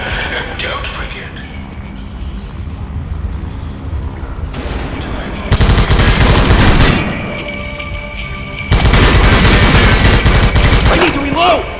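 Rapid bursts of gunfire and heavy grenade blasts in the World War Heroes shooter game, loud and dense, with two long sustained explosive barrages standing out above a constant clatter of weapon fire.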